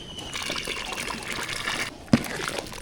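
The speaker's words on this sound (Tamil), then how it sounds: "அந்த புளி தண்ணி சேர்த்துக்கலாம்" Tamarind water is poured into a pot of simmering hotel-style sambar. It makes a steady liquid trickle, close by, ending with a brief splash or knock near the end.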